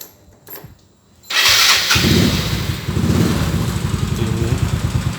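An older classic motorcycle at a used-vehicle garage is started: a brief crank, the engine catches with a loud burst, and it settles into a steady, near, pulsing idle.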